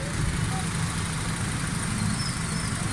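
A tuned Honda Civic Reborn engine idles steadily with a low, even hum and no audible knocking, heard close and continuous without talk.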